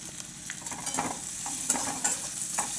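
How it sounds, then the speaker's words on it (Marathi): Green chilies frying in oil for thecha, a spicy chili chutney, stirred steadily in the pan, giving a soft continuous sizzle with repeated scraping strokes near the mic, no talking. "सारखं हलवत राहायचं थोडंसं तेल जास्त टाकायचं"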